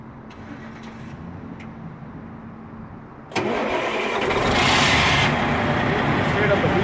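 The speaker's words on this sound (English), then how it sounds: "so I'll start the truck" A truck engine cranks and fires after a quiet stretch with a faint voice, then runs at a steady loud idle that swells briefly.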